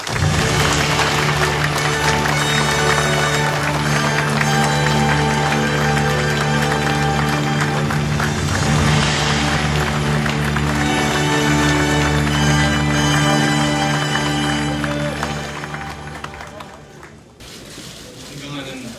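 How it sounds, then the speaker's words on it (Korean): Applause from a crowded hall at a Korean political party founding convention, greeting co-chairs Ahn Cheol-soo and Kim Han-gil, a sustained wash of clapping mixed with music and amplified announcing, fading near the end. "두 분께 다시 한번 격려의 큰 박수를 보내주시기 바랍니다"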